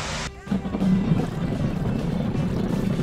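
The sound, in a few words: hovercraft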